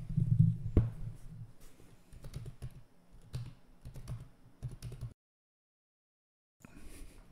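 Rapid keystrokes on a computer keyboard entering a login and password, a close, steady patter of clicks that stops abruptly, then a brief burst of further keys after a pause.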